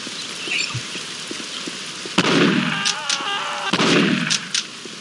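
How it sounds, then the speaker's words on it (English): Mini nuke launcher fired in the video game Postal 2, two heavy booming blasts about a second and a half apart, each with a sharp crack and a rumbling tail over steady rain-like background noise. "I ended up getting that mini nuke launcher"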